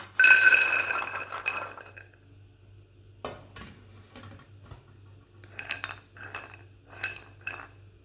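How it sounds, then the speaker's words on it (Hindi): Roasted almonds are tipped from a hot pot into another vessel, and metal utensils clink against the cookware. A busy burst of scraping and rattling opens the clip, then scattered light clinks follow in near silence. "इसे दूसरे बर्तन में निकाल लेते हैं।"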